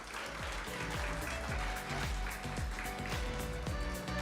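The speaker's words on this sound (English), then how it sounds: "let's give our presenters and moderators a round of applause" An audience at a two-day symposium gives its presenters and moderators a round of applause, sustained steady clapping from a crowd that fills the room, with faint voices underneath.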